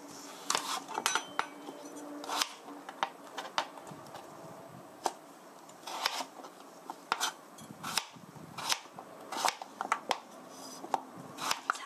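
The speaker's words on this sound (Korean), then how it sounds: "작은 거는 두 쪽으로 해서 이렇게 썰어 주셔도 되고요" Knife chopping potatoes on a cutting board while preparing vegetable meatballs, a steady run of sharp close taps and thuds with a few pauses, heard alone.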